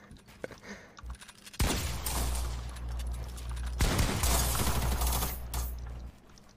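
Bursts of rapid automatic gunfire in a video game, two long loud volleys separated by a brief pause, with faint clicks and movement before the first burst.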